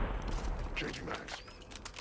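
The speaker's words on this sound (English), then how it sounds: "He's still shooting." Gunfire in the Warzone video game crackles in bursts throughout, mid-distance and moderately loud, with game ambience and a voice talking over it.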